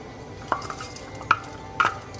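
Rice hitting hot oil in a pan, heard as three short, sharp clattering bursts over a low steady background, fairly close and moderately loud, no talking.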